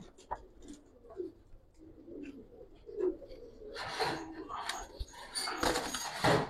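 Old-breed Giribaz pigeons coo softly in low, rolling phrases close by, with fluttering and shuffling sounds growing busier toward the end.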